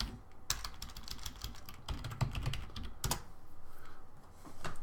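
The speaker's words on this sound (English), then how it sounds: "I'm just typing this in so we don't forget." Rapid clattering keystrokes on a computer keyboard come in quick runs separated by brief gaps, close up and fairly quiet.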